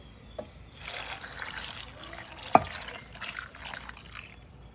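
Water is poured into a pan of onions and peppers, making a steady close hiss and trickle for a few seconds with one sharp splash partway through.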